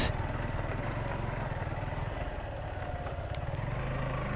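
A motorcycle rides an off-road hill road in Sylhet, its engine putting out a steady, close, low chugging drone with slight rhythmic pulsing and a few faint rattles, with no talk.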